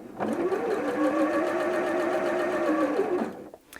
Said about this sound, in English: let go of the reverse button and the machine will now sew forwards